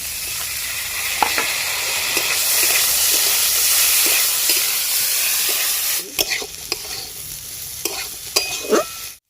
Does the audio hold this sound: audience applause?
no